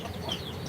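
Neighbourhood chickens cluck in short, soft bursts in a humid, cloudy spring homestead yard, heard briefly at moderate distance over steady background ambience.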